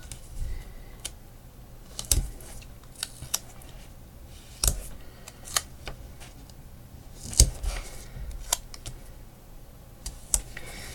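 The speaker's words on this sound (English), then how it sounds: "we're going to cut this and then we're going to cut it into 4" Scissors snip through an adhesive sheet for Christmas card crafting, a series of sharp, close cuts spaced irregularly over about ten seconds, with no talking.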